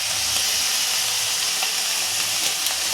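Soy sauce goes into egg chow mein frying in a hot pan, giving a loud, steady, close sizzle that hisses evenly throughout.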